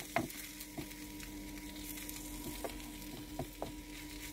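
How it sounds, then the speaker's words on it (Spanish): Sweet paprika and bomba rice sautéing in a pan for seafood paella: a steady low sizzle with a few soft stirring knocks, moderately quiet and with no voices. "Echamos una cucharada de pimentón dulce y lo rehogamos junto al resto."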